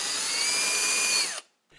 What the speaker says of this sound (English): create a countersink for those holes,